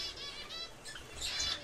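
Pet birds in an aviary give soft, quick chirps and tweets, with light wing flutters, all faint and close together in a short burst.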